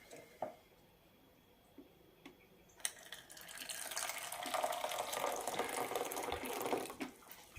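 100 ml of boiling water poured onto agar-agar, a few light clinks and taps first, then a steady close splashing pour that runs for several seconds before tapering off.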